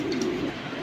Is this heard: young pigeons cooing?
yes